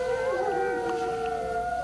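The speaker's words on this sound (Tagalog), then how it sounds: "Umaalulong na naman ang mga aso," Dogs howl at night outside a mansion, several drawn-out howls overlapping in a steady, faint, mournful chorus with no talk over them.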